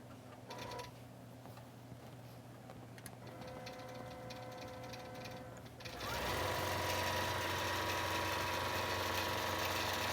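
A computerized quilting sewing machine stitches an art quilt, its steady mechanical whir running continuously and growing louder and busier partway through, with no talk.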